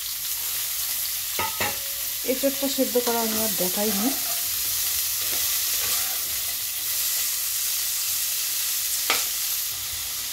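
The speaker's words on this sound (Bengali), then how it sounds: "এবার আমি সেদ্ধ করে রাখা এঁচোড়টাকে একটু ভাজা করে নিচ্ছি" Boiled green jackfruit stir-fried in a pan for a jackfruit and prawn dish gives a steady, close sizzle with scraping stirs, while someone talks over it partway through.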